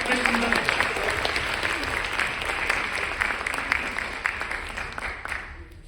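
Sustained applause from a theatre audience at a school stage performance of a comic murder-mystery play, dense steady clapping throughout that thins out at the very end.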